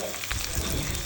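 Sardines (chala) sizzle steadily in a hot pan, a close, continuous crackling fry with no talking.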